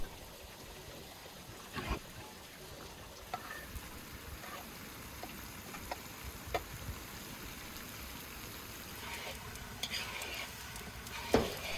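Food being stirred in a pan over a strong outdoor fire, quiet steady sizzle with scattered scrapes and knocks of the utensil, a louder clatter near the end.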